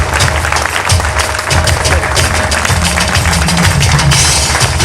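Sustained applause from an audience at a Marathi public felicitation event in Washim, dense and steady throughout, loud and continuous without gaps.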